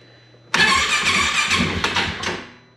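A hard-to-start engine cranks loudly from a sudden onset, catches briefly with a rough, uneven sputter and a few sharp bursts, then fades out as it stalls, recorded close up with no talk.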